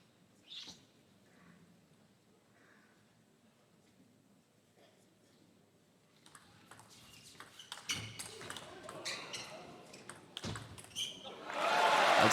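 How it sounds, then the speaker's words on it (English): Ma Long chops from under the table against Timo Boll in a 2017 World Championships men's singles semifinal, sparse sharp ball pings in a quiet hall, then a crowd swelling to loud applause, with commentary. "You've got Ma Long chopping from under the table."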